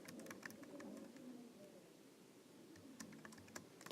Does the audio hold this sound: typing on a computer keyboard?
yes